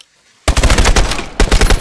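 Video game gunfire breaks out after a short silence: loud, close automatic bursts of rapid shots, a brief lull, then another quick burst.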